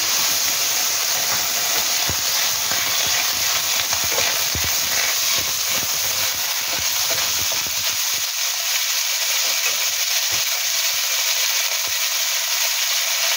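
Sausage and bean sprouts sizzle together in a hot frying pan, a steady, dense crackling hiss with occasional stirring scrapes, loud and continuous with no talking.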